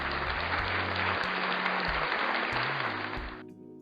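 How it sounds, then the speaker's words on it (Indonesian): Applause from a class audience: a dense, steady burst of clapping that runs for about three seconds and then cuts off, with a low tonal hum underneath. "Tepuk tangan."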